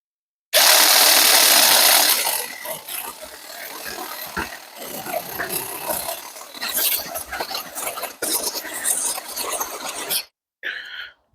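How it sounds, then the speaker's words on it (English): A battery-powered hedge trimmer cutting through the top of a fruit tree, starting with a loud buzzing burst and then chattering and crunching in uneven spurts through branches, close by, ending in a short pause and one last brief blip. "This is battery powered hedge trimmer, and I'm just going to go right through the top"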